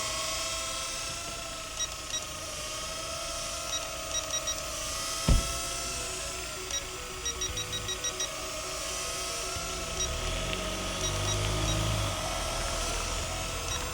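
A Hisingy Firefly FPV drone flies continuously with a steady high-pitched whine of small propellers, holding a constant tone with a brief sharp knock midway and a rougher low rumble near the end.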